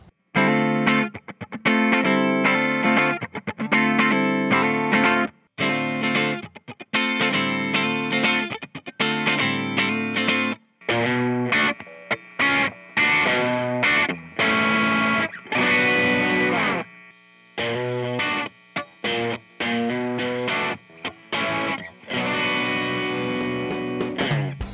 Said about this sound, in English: Let's give you some playing samples of what these guitars sound like before we start messing with them.